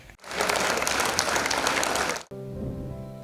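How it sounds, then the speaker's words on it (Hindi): An audience applauds on a TV show stage, a dense, loud wash of clapping that holds steady for about two seconds and then cuts off sharply into music. "जोरदार तालियों के बीच"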